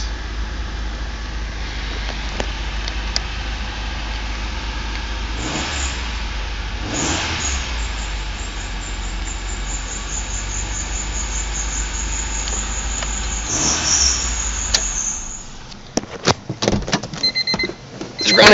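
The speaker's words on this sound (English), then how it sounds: "It's running alright, so I got the timing belt in the right spot" The 1.6L engine of a 1998 Honda Civic runs after a timing belt replacement, a steady close idle rising into a couple of revs, ending in brief clicks and knocks.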